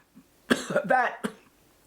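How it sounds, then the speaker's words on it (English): Several harsh, close coughs come in quick succession, rough and throaty. "I'm coughing"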